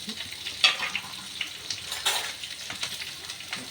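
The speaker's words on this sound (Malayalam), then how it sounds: "സവാള നല്ലവണ്ണം വശിച്ച് ചെറിയ ഉള്ളിയും വെച്ച്" Onions and small shallots fry in a pan with a low, steady sizzle, punctuated by a few light scrapes and clicks from stirring.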